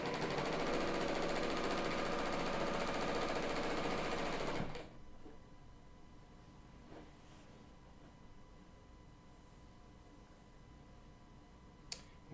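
A Bernina L890 serger sews with fusible thread in the lower looper, a loud, fast, steady mechanical whir for about four and a half seconds that stops abruptly, followed by quiet with a few faint clicks.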